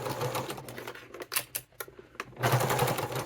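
A sewing machine stitching a fabric wallet, its needle rattling in quick close bursts that stop briefly with a few sharp clicks, then run on steadily again.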